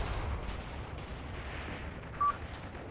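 Enemy gunfire and artillery in the Mius Front war game, a dense, distant rumble of shots and booms rolling continuously beneath a brief high tone.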